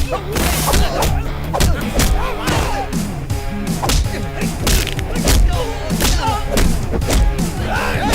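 Punches and kicks land in a fight scene from a South Indian action film dubbed into Hindi. Repeated heavy thuds and sharp smacks come in rapid succession under a loud, dense music score.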